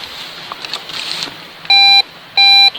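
Two loud, clean electronic beeps from a metal detector sweeping over a buried target beside a tree stump while treasure hunting outdoors, each tone lasting about a quarter second with a short gap, over faint background rustle.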